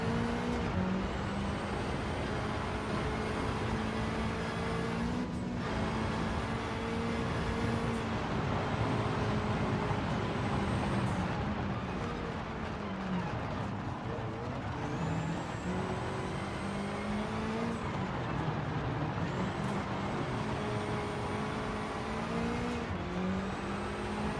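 Car engine in a sim racing video game, a steady droning motor note that rises and dips with shifting revs throughout, loud and continuous with no talk over it.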